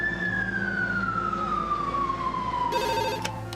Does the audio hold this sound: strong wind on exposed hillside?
no